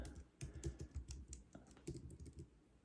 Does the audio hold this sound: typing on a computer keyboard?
yes